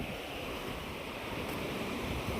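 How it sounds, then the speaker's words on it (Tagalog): Steady, roaring strong wind rushes continuously, mixed with a broad surf-like wash and low rumbling buffeting, with no voices. "malakas yung hangin"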